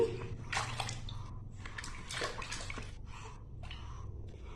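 Water runs into a bath with a steady splashing, sloshing rush, broken by brief bursts of louder spatter and some softer drips.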